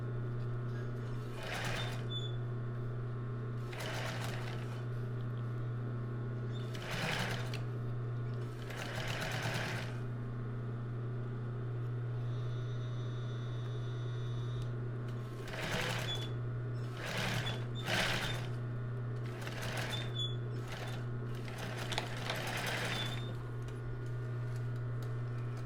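Sewing machine stitching a fabric topper, repeated bursts of rapid mechanical clatter separated by pauses over a constant low hum, close and clear.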